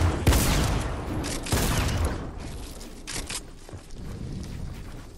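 Bursts of gunfire from a Fortnite match, several loud volleys in the first two seconds followed by scattered, lighter shots and clatter.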